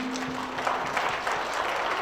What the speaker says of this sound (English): please give ASAAL a round of applause